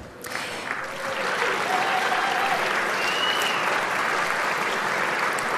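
Full audience applause at an environmental awards ceremony swells within the first second into a dense, steady roar of clapping that holds loud and even throughout, with a faint voice or whistle briefly above it.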